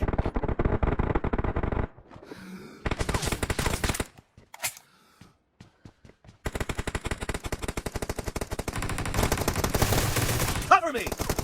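Groza assault rifle fired without a suppressor in PUBG Mobile, loud rapid automatic bursts in several long strings separated by short pauses and a few single shots, close and dominant.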